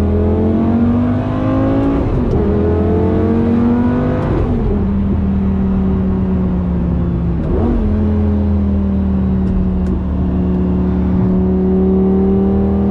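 A 2007 Lamborghini Gallardo 5.0L V10 coupe accelerating through an underpass, its loud engine note rising steadily in pitch, broken by brief dips at gear shifts, echoing and close with no talk.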